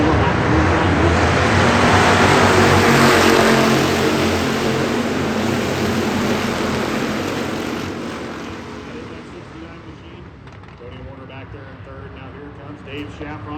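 A field of hobby stock race cars roars back to life on a speedway restart, a loud, dense engine roar that swells early, then fades somewhat as the pack moves off, with an announcer talking over it.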